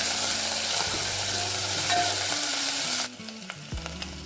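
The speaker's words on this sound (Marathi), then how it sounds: "चांगलं हलवून घ्यायचं." Ginger, garlic and chili paste with curry leaves and mustard seeds frying in a pan, a dense close sizzle with stirring scrapes, which drops away sharply near the end to a quieter, intermittent crackle.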